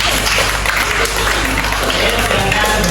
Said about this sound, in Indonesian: Beri tepuk tangan kepada teman kita yang presentasi.